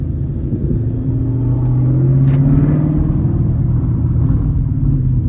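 A manual-transmission car's engine rumbles steadily from a standing start, building gradually as it takes off, heard close from inside the cabin with a low, continuous drone.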